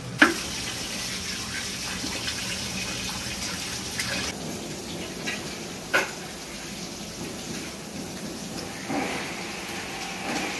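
Tap water runs steadily while raw chicken meat is washed under it in a kitchen sink, a close continuous gush with small splashes and shifts in the flow.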